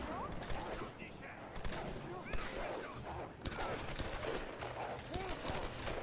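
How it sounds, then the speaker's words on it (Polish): Bursts of gunfire crackle in rapid volleys in the Tomb Raider video game, layered over game sound effects and dialogue, with a fairly dense, moderately loud battle mix. "Co tam za strzały są?"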